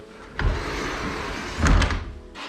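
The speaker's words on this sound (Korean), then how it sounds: "댐퍼호차를 사용했기 때문에 문이 열리고 닫힐 때 서서히 움직입니다" A sliding pocket door hung from a top rail on damper rollers rolls with a steady low rumble, then gives a soft muffled thud as it settles shut slowly, with no slam.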